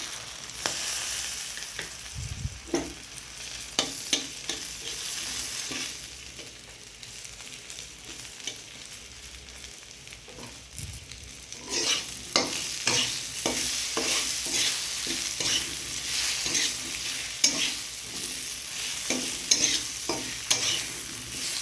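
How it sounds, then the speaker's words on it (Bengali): Cumin seeds temper in hot oil with green chilli, a steady sizzle under scraping spoon stirs. Bursts of crackling and clatter get busier and louder in the second half, heard close with no voices. "এবার আমি সাদা জিরেটাও ফোড়ন দিয়ে দেবো।"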